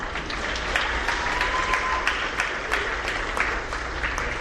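A crowd at the Manasquan Elementary School eighth-grade graduation claps for the graduates in a steady, dense round of applause that holds at an even level for several seconds, with no voices on top.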